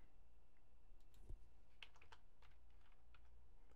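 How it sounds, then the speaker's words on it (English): A few quiet keystrokes tap on a computer keyboard, sparse and soft against a faint background hum. "hit the equal button on the keyboard"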